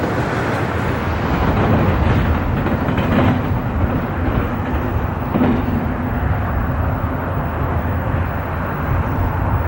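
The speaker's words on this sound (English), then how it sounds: "Intermodal train TB22 sprints out of Conway to complete its eastbound journey from Chicago to Baltimore, Maryland" Intermodal freight train TB22 passes eastbound at speed beneath an old Pennsylvania Railroad-style signal bridge, a steady, loud rumble and clatter of rolling cars sustained without a break.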